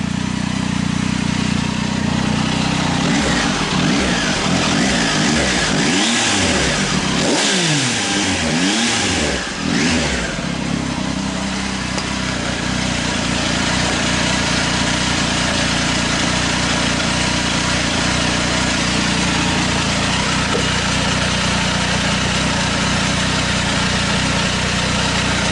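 Triumph Tiger 800 XRT motorcycle triple, 2019 model, fitted with a Fuel Diablo carbon muffler with the baffle installed, idling then blipped through several quick rising and falling revs, loud and close, settling back to a steady idle.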